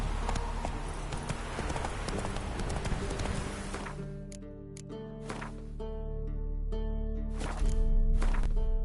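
Geralt's horse Roach galloping in the video game The Witcher 3, a close, steady clip-clop of hooves that thins into separate rhythmic hoofbeats.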